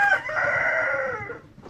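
Andijan black chickens on a farm, with a rooster giving one loud, close, drawn-out crow that tails off, preceded by a brief cluck.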